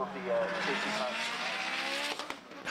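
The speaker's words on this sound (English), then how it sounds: "Just listen to that Mitsubishi Evo of Andrew Gallagher." Mitsubishi Evo race car driven by Andrew Gallagher at a circuit race meeting, its loud high-revving engine roaring close by with a brief tire squeal, a commentator talking over it.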